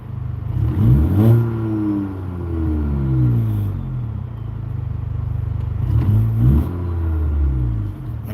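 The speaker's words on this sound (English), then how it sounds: "So I'll give it a couple revs so you guys can see how it behaves" A Honda Accord engine with a new high-pressure fuel pump revs up twice, rising and falling in pitch, loud and close, with a steady idle rumble between the revs.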